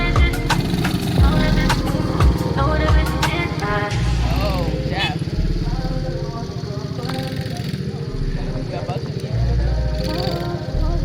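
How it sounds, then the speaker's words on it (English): Motorbikes ride on dirt tracks out in the bush near Harare, their engines buzzing loudly and continuously up close, rising and falling in pitch as they rev, while people talk over the noise. "About to go onto the tracks with these bikes."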